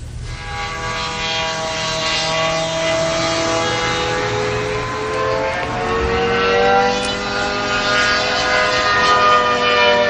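Propeller airplanes flying low over a rural property give a loud, steady drone whose pitch slowly shifts as they pass. It stays near and continuous, with no talking.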